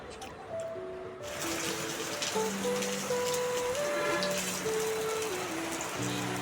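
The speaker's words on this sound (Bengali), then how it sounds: "বাইরে হচ্ছে বৃষ্টি পড়তেছে" Rain falls outside as a steady, dense patter and hiss that starts a moment in and keeps up at an even level, with faint tonal sounds drifting over it.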